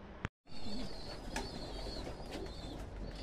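Racing pigeons coo and chirp near the loft, with a few soft calls and brief flutters, mid-distance over an outdoor background hiss and a sharp click near the start.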